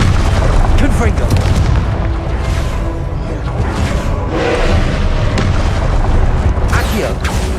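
Repeated Confringo explosive spells in Hogwarts Legacy burst as loud, booming blasts one after another over a dense, continuous bed of game noise and effects.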